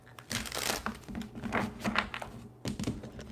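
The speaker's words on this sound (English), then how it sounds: "I have to shuffle it in two because it's such a big deck." A large tarot card deck is shuffled by hand, giving several quick papery riffles and soft slaps in bursts, close and fairly quiet.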